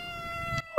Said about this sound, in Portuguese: É só um gatinho preso.